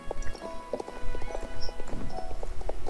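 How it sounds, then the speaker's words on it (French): Horse hooves clip-clop in a steady trot in Star Stable Online, a white horse in white tack moving along with a few brief tonal game sounds layered over the footfalls. "c'est un cheval blanc avec une tenue blanche"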